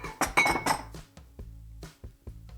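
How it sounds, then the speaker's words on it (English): A bowl is pulled out in a kitchen while wild duck tacos are being made, with a cluster of close clinks and knocks of dishes and utensils followed by a few sparser taps. "I'm going to get me a bowl here"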